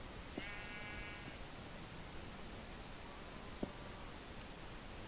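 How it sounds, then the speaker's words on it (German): Minecraft sheep bleats in the game, a short wavering cry with a fainter second call later, heard alone over a steady hiss of background noise. "Da vorne rennt das Schaf."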